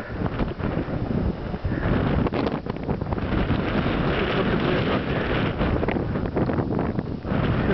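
Steady, loud wind with snow roaring into the microphone on Makovytsia mountain, with buffeting gusts throughout, no voices.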